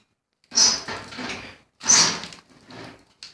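An old jammed metal locker door at a mine site is yanked twice, each pull giving a scraping, rattling clunk followed by smaller knocks and creaks, close and fairly loud, with no talking.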